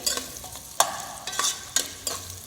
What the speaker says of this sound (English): Continuous stir is important again.